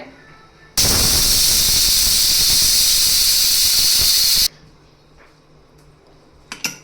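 A pressure cooker cooking dudhi dal, a bottle gourd and lentil curry, lets out a loud, continuous whistling hiss of steam for nearly four seconds, then cuts off abruptly to quiet with a couple of faint clinks.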